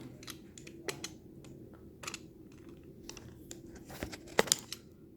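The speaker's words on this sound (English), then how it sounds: "So let's cut this box open here." Blade slicing open the cardboard retail box of an Honor 6X phone: faint scattered scratches, taps and crinkles nearby, with a sharper tearing rip close to the end.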